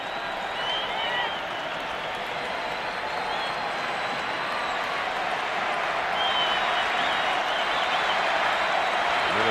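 A Minnesota baseball stadium crowd at Game 7 of the 1991 World Series, Braves at Twins, roars and applauds in a dense, sustained wall of noise, swelling slightly toward the end, with faint commentary underneath.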